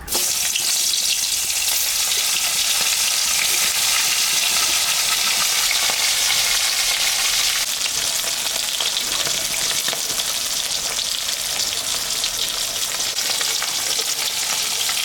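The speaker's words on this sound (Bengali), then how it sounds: "কড়াই গরম হয়ে গেছে তেলও দিয়ে দিছি এখন আমি মাছটা ভাজবো" Loud, steady sizzling of hilsa fish frying in hot oil in a kadai, a continuous crackling hiss that fills the whole stretch without pause, close up.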